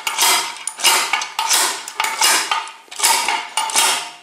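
Repeated hard metallic blows on the swingarm of a Yamaha TT600 motorcycle, struck to free a stuck bearing; about eight loud, close clanging hits in an uneven rhythm with short ringing decay.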